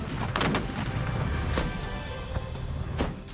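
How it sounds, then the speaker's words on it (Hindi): Russian BRM-1K artillery firing in central Ukraine, several sharp booming shots in quick irregular succession with rumbling echoes between them, loud and without speech. "रूस की सेना ने सेंट्रल यूक्रेन में BRM-1K आर्टिलरी से ताबड़तोड़ फायरिंग की।"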